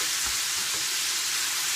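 Onion fries alongside smoked bacon in a pan, giving a loud, continuous close-up sizzle with a soft stirring scrape and no talking.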